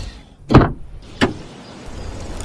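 A car door on a vehicle with a punctured front tyre, stopped by the roadside near an old cemetery, gives two sharp, close clunks about a second apart over a quiet hum.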